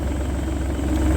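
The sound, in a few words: tractor engine revs dropping before disengaging PTO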